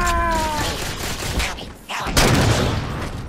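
Rapid gunfire in Halo 4 Spartan Ops, dense bursts of shots layered into a loud, continuous barrage with a brief dip before resuming.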